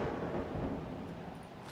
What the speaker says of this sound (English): Maybe also because it's raining.